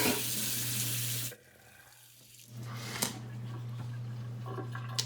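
Water from a faucet runs onto a splash-and-go knife sharpening stone over a sink bridge, a steady broadband splash that stops briefly midway and then resumes, close and fairly loud.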